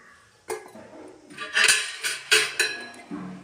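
A utensil scrapes and knocks against a metal pot while rice cooking in water is stirred, giving several distinct clanks and scrapes at an irregular rhythm, close and alone.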